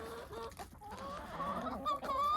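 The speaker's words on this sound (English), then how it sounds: "I don't need 3 roosters for 40 chickens." A young rooster in a flock of about forty chickens clucks nearby, a short run of soft, throaty chattering calls rising at the end, fairly close and clear with no talking.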